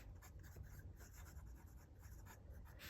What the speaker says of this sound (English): What I love about this Sailor Pro Gear Imperial Black